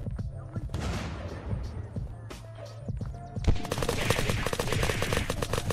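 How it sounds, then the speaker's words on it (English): Video game gunfire aimed at a helicopter, rapid automatic shots that swell into a loud continuous volley in the second half, with voices talking over it. "Why are you shooting at that heli, dude?"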